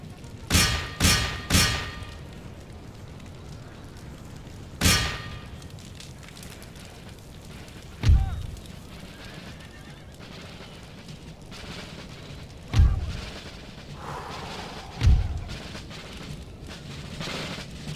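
Musket volleys from an army in Empire: Total War ring out as sharp, separate cracks, a quick cluster of three at the start and then single reports spaced several seconds apart, moderately loud against a quiet battlefield hum.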